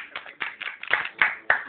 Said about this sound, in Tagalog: Palakpak! Perfect!